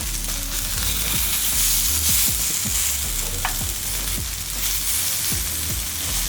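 Pieces of protein chicken fry in a hot pan with a steady, loud sizzle, with regular scraping and stirring clicks from turning the meat running throughout and no voices.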